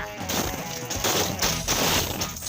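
Piles of saved coins clink and crash together in rapid bursts as they are poured and shaken, loud and metallic, with brief pauses between the rattling waves.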